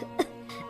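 Someone coughs briefly indoors, choking on chili fumes from chilies burning on a gas stove; one sharp cough is followed by a softer one.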